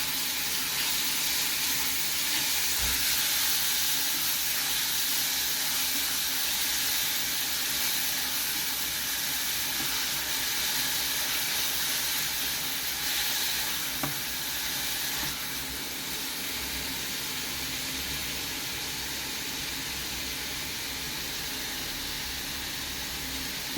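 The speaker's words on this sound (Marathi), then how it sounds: "हे 4 चमचे मी कांदा घेतलाय. हा थोडा परतून घेते मी." Chopped onion sautés in a pan for a Mumbai Saraswat bombil bhujane dish, giving a steady, even hiss and sizzle that runs unbroken and fairly soft throughout.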